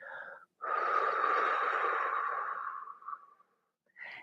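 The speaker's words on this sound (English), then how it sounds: "exhaling through the lips." A long, steady, breathy exhale through pursed lips during yoga breathing, close and clear, lasting about three seconds and fading out. Brief breath sounds come just before and after, with no talking.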